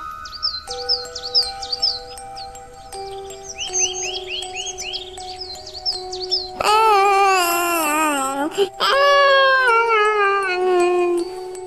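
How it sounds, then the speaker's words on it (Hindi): In a Hindi animated story, a cartoon character cries in loud, wavering wails that rise and fall, coming after a stretch of chirpy, bird-like calls and babble. "अरे भाई, ये रोने की आवाज कहाँ से आ रही है?"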